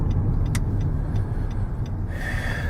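A 2018 Nissan Sentra SV rolls toward a stop sign, its engine and road noise a low steady rumble from inside the car, with a few faint ticks and a brief hiss near the end.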